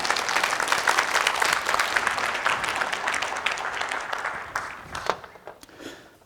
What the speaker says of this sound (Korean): 박수 치고 싶어요? 세게 치세요.